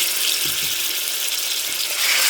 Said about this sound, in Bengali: আমি এই পরিমাণ অল্প অল্প করে চিকেনগুলো ফ্রাই করে নিচ্ছি।